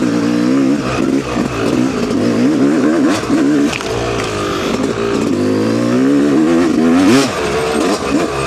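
A dirt bike fitted with a Wiseco clutch basket and Henson pressure plate and clutch pack revs hard on a wooded singletrack loop, its engine loud and close, rising and falling continuously with throttle changes.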